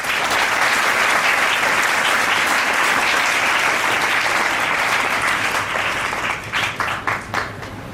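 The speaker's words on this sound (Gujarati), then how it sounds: "તો ધોરણ 9 અને 11 માં પ્રવેશતા તમામ બાળકોને આજે આપણે તાળીઓના ગડગડાટથી આવકારીએ અને વધાવીએ" A school assembly crowd bursts into loud, dense applause to welcome students entering grades 9 and 11. The sustained clapping fills the hall, then thins into scattered claps near the end.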